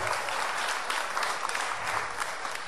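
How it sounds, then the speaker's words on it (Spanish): Steady, dense applause from a church congregation, a continuous wash of many hands clapping at even loudness throughout. "dele el aplauso con gusto y con alegría al Señor"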